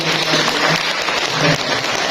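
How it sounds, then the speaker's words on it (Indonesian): Audience applause at a government family-planning event in East Java, a short burst of dense, steady clapping from a large crowd filling the room. "Kasih tepuk tangan dulu dong."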